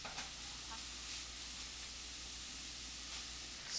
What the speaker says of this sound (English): let it simmer in the Italian sausage's oil